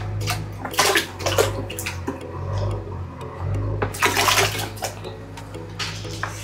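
Turmeric being tipped into hot water in a bucket gives loud, uneven splashing and pouring in bursts, with a continuous low hum underneath throughout.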